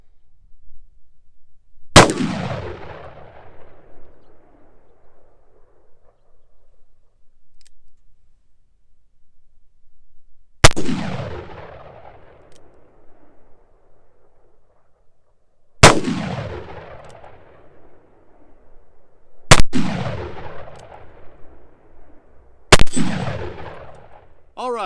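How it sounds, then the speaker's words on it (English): Colt Walker snub nose revolver fired at a steel plate outdoors: five loud, sharp reports spaced several seconds apart, each with a long ringing decay, the last two coming close together. "Now these first shots I'm going to take without the chronograph. I'm going to shoot just to see where to hold."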